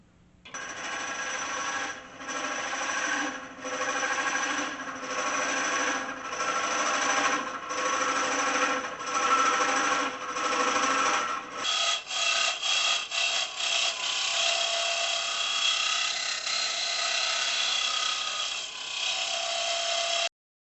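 A lathe spins a willow burl hollow form while a double bent bar tool scrapes steadily at the inside. The cutting rasps loud and close and continuously, with rhythmic pulses as the tool works the corners.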